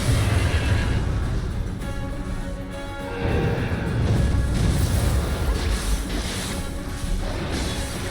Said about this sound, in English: Bad horse.